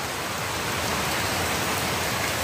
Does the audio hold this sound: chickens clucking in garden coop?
no